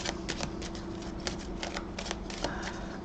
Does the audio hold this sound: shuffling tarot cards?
yes